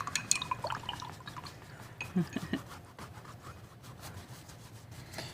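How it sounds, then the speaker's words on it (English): A paintbrush is rinsed in water during a painting session, giving faint scattered drips, small splashes and soft rubbing and swishing sounds, quiet and close. "I'm going to rinse my brush now, though."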